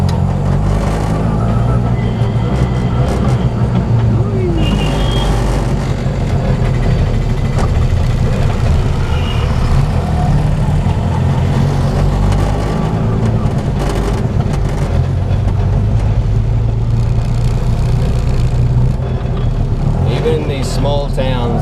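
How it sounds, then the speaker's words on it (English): Busy small-town street in Rameswaram, India, with cars and buses: loud, continuous engine rumble and idling close by, vehicles passing, and voices talking over the traffic. "Small towns, the traffic is just crazy. There's people everywhere, cars, buses just stopping in random places"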